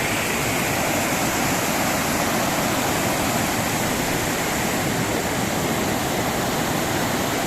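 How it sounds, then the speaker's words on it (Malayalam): Water rushing down streams at Vadattupara waterfalls, a dense, steady roar of flowing water that stays loud and unbroken throughout, with no voices. "അതിൽ നിന്നും വെള്ളം ഒഴുകി വരുന്നുണ്ട്"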